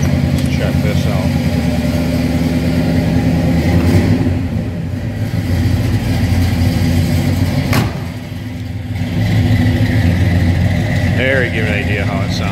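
A 1964 Pontiac LeMans with a 326 V8 idles close by, a steady low rumble that settles briefly lower midway, with someone talking over it.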